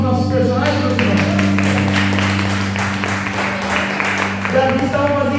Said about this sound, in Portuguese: Uma salva de palmas para os nossos personagens